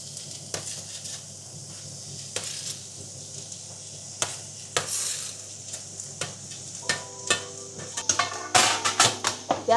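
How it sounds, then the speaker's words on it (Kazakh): Chopped onions frying in a pan, a steady close sizzle broken by spoon scrapes and clinks against the metal that grow busier toward the end. "Пиязын суы тартылғанша қуырамын."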